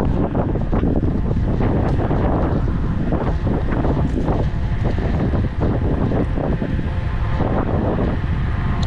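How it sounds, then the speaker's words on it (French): Strong wind buffets the microphone with a loud, continuous low roar and rumble that never lets up. "j'espère qu'on m'entend à cause du vent, c'est infernal"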